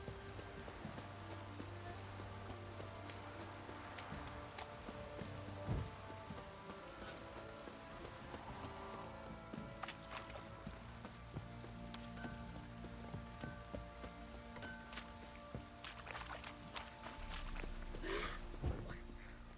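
Steady rain patters on a surface throughout a video game scene, with scattered louder drips and a few background voices and quacking-like sounds mixed in.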